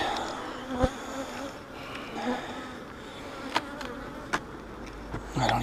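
Honeybees hum in a steady, close buzz around a hive with no queen, with a few sharp knocks and clicks of hive parts cutting through the drone.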